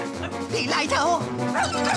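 A dog barks and yips in a busy cartoon scene, with several loud, close yelps and whimpers overlapping raised voices.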